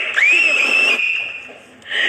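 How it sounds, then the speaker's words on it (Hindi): A loud, sustained high whistle rises and holds, then returns after a brief dip, blown in celebration by ISRO scientists at the Chandrayaan 3 moon landing, with crowd noise underneath. "तो देखिए वैज्ञानिक जो है वो आज इस पल पर सीटी बजा रहे हैं।"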